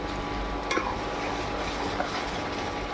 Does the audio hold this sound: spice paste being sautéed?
yes